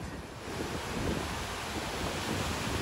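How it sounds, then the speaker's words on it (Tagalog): Heavy sea waves roar and crash continuously, a loud broadband rush with wind buffeting the microphone throughout. "Ang lalaki ng alon"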